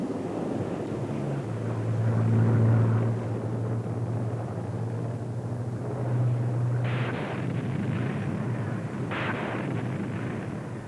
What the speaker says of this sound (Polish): Grumman Avenger okazał się doskonałym samolotem.